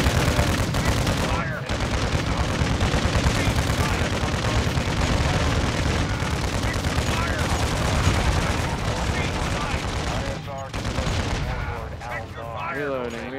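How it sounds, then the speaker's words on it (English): A hostile precision airstrike in a multiplayer shooter video game rumbles as a dense, continuous roar of explosions and heavy gunfire, loud and sustained throughout, with a voice talking over it near the end. "Hostile precision airstrike."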